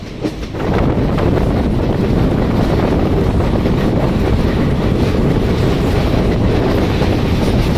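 A passenger train rolls around a curve near Ambadola, a loud continuous rumble of wheels on rails with wind buffeting the microphone, steady from start to finish with no voices.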